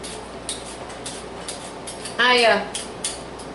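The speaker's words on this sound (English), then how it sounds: "I'm going to cut them into chunks" A knife slicing peeled sweet potatoes into chunks on a cutting board, a string of sharp clicks and taps about every half second with a brief metallic scrape in the middle, close and fairly loud, no voices.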